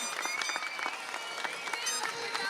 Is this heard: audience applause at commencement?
yes